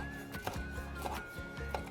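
A knife mincing dried shrimp on a cutting board: a few soft, irregular chops over a steady low background hum, fairly faint and close.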